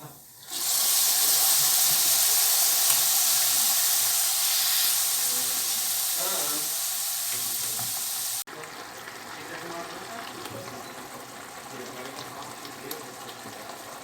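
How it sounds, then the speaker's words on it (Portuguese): Broth poured over sautéed rice in a pan for a caprese risotto hisses into a loud, steady sizzle that holds for several seconds, then drops abruptly to a quieter, bubbling simmer. "arroz refogado, vamos começar a acrescentar o caldo"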